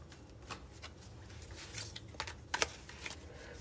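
Tarot cards shuffled by hand during a card reading, a close, quiet riffle of soft papery flicks and slides with a couple of sharper snaps near the end.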